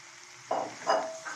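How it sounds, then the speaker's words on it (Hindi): Tinda being stirred in sizzling masala, a soft steady fry hiss broken by two or three brief scraping stirs, close and fairly quiet. "इसे अच्छी तरह हिलाएंगे ताकि ये मसाले में अच्छी तरह मिक्स हो जाए।"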